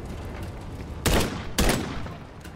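DMR rifle firing in Call of Duty: Modern Warfare 3 campaign on Hard difficulty, two loud sharp shots about half a second apart over a low background rumble, no talk.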